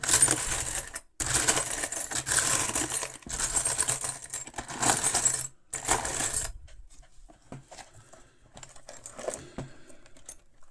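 A bunch of old keys jangles and clinks in loud, busy bursts with short pauses between them, then fades to sparse, faint metallic taps.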